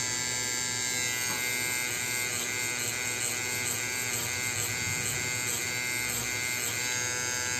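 Tattoo machine buzzing steadily and close during fast whip shading, a dense continuous electric drone with faint rhythmic pulsing and no talk over it.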